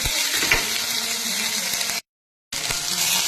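Whole spices, ginger and garlic hiss and sizzle steadily in a hot pan while being stirred, with a few soft scrapes near the start and a brief gap of silence before the frying picks up again.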